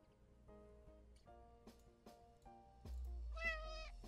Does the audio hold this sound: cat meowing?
yes